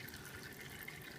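Motor oil drains off a loosened oil filter during a Ford Escape oil change, making a steady, close trickle of liquid with no speech over it.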